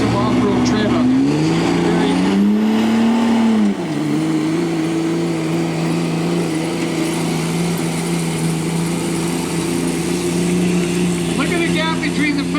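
Diesel truck engine roaring steadily during a truck pulling competition at the Vermilion Ag Fair, loud and continuous with a pitch rise and dip early on, then a sustained drone.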